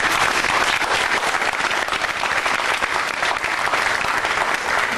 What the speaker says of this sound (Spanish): del artista plástico Carlos Malavé, para que pida un gran aplauso, por favor